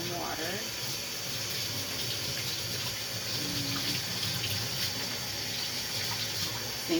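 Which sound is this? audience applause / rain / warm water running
warm water running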